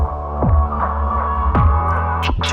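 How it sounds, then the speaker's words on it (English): A synthesizer tone runs through a filter with the resonance cranked high while an LFO drives a tremolo, giving a loud, sustained hum with slow throbbing swells and sweeping resonant peaks at a trade-show booth. "you can do some really, really, really cool tremolo type effects"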